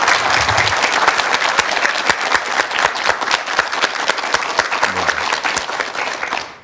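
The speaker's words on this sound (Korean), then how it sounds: "박수 보내주시면 고맙겠습니다." A studio audience on a Korean KBS morning talk show applauds with steady, close, crisp clapping for several seconds, then the sound tapers off at the end.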